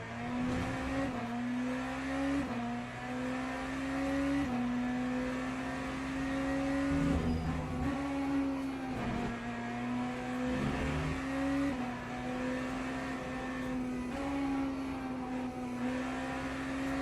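Race car engine in the Le Mans Ultimate video game, a steady high-pitched drone at full throttle with brief dips and rises as gears change, continuous and close, no talking.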